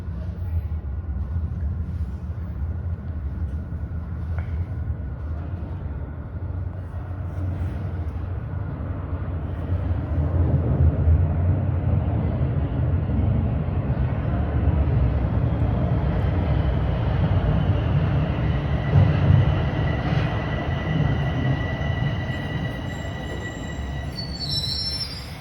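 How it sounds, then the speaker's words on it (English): A TTC Line 4 subway train pulls into Bayview station, a heavy rumble of wheels on rail building as it nears, with high metallic squeals from the wheels toward the end. "here comes the eastbound train arriving from Shepherd Young Station."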